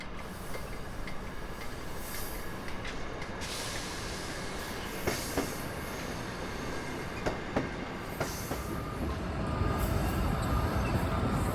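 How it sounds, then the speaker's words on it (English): A South Shore Line commuter train rumbles steadily past as it departs for South Bend, Indiana, with rhythmic wheel clacks over rail joints, growing louder toward the end as it moves off. "a South Shoreline train departs for South Bend, Indiana"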